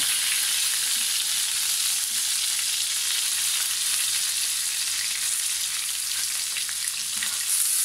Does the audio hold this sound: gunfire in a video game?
no